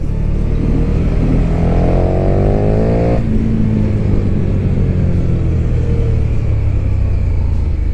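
A 2020 KTM SuperDuke 1290 R motorcycle at full throttle, its engine note climbing loud and steady before a sharp drop at a gear change, then pulling hard again with a deep rumble.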